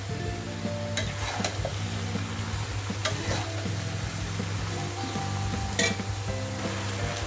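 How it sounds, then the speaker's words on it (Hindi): A spoon stirs fried vegetables into masala in a kadhai for navratan, sizzling steadily with repeated scraping strokes and occasional light metal clinks; no one speaks. "अब हम डाल देते हैं ये जो सब्जी हम फ्राई करके रखा है ये हम डाल देते हैं। ये डाल के अच्छे से मिक्स करना है।"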